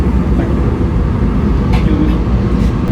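A moving passenger train rumbles steadily from inside the carriage, with a heavy low-end roar and a constant rattle throughout, loud and close.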